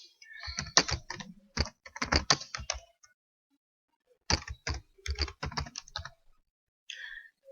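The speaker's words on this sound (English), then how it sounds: "Type in the title of your meeting." Rapid typing on a computer keyboard while entering a meeting title in Jitsi Meet, close and crisp, in two dense bursts of clattering keystrokes split by a pause of near silence, then a few final taps.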